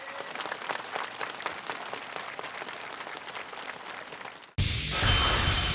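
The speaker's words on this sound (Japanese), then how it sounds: "野村健選手、この拍手は聞こえるはずです" A crowd at the 2010 D1 Grand Prix round at Ebisu Circuit applauding injured drifting driver Ken Nomura: a steady wash of clapping for about four and a half seconds, then an abrupt cut to a different noise.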